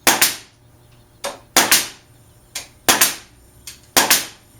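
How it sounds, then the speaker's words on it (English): A Smart Point 15-gauge FN-format pneumatic nailer firing nails: seven sharp, close pops, mostly in quick pairs with short pauses between, each decaying fast. "plug it into my air supply, and shoot some nails"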